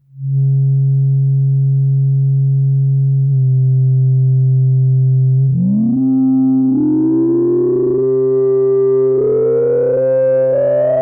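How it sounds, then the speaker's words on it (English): Novation Peak synthesizer tone through its resonant low-pass filter: a steady low hum, then a singing, whistling resonance sweeps upward through the harmonics. No voices. "It's quite a gritty and powerful sounding filter here."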